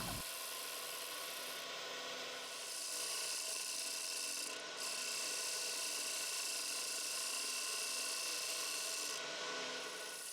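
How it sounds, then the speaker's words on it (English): A steady, close scraping hiss of a lathe tool taking light turning cuts on maple, throwing thin wispy shavings, with a continuous motor hum beneath and no speech. "by the shavings wisps that I am producing, you can see that I am doing really light cuts"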